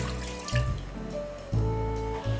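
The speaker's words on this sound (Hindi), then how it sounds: "पानी ऐड करेंगे।" Water pours into a cooking pot holding meat and chana dal, making a short splashing gush that comes in a few surges, close and moderately loud.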